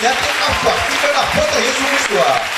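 A church congregation cheers and applauds in praise of Jesus, a dense, steady wash of clapping and shouting voices that stays loud throughout, with voices calling out over it.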